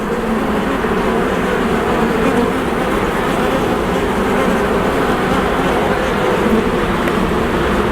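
Buckfast Anatolian line honey bees buzz in a continuous, loud, dense drone close by, steady for the whole stretch with no voices.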